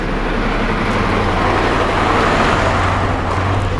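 Steady, loud engine drone and road rumble from a car pulling in to park in a yard nearby, with constant vehicle noise throughout and no talk.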